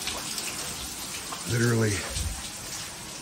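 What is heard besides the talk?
water leaking through ceiling from broken attic water line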